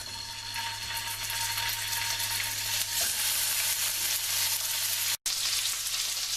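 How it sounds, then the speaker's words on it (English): Chicken tenderloins crackle in a preheated pan, a loud dense hiss that runs steadily nearly the whole time, close by and with no one speaking, cut off by one brief silent gap near the end. "Step 5 is to add the tenderloins to the already heated pan."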